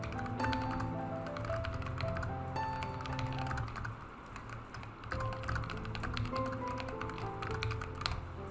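Rapid, steady clatter of fingers on a computer keyboard while composing a Reddit post, close and continuous, with uneven bursts of keystrokes and no talking.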